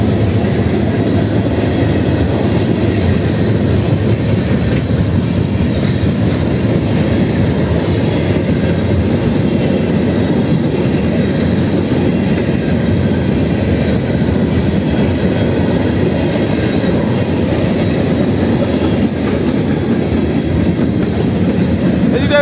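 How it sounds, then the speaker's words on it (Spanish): A pair of GE Evolution diesel locomotives, KCSM 4729 and 4665, pass close by with a steady loud roar of engines and rolling wagons, clickety-clack of wheels and faint squeal throughout. "Va a haber encuentro de trenes allá en el escape, posiblemente."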